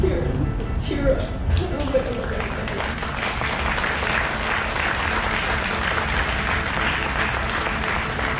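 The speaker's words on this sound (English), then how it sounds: "let's give a round of applause for Hans one more time" Applause from an audience at a celebration of life, a dense, steady wash of clapping that swells after a brief opening and holds full and even to the end, with a voice briefly heard at the start.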